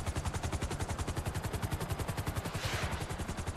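Rapid, steady automatic gunfire in GTA Online rattles on continuously as a fast, even burst, loud and close with a brief swelling whoosh partway through.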